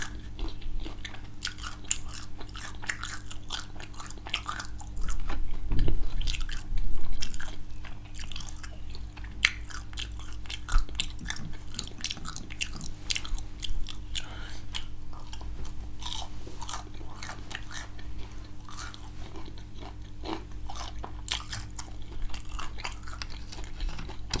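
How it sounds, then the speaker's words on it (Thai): Crunchy fried chicken bitten and chewed close to the mic, repeated crisp crackling bites and chewing crunches over about twenty seconds, with one heavier bite early on and no talking. "ทุกคนฟังเสียงแห่งความกรอบนะ"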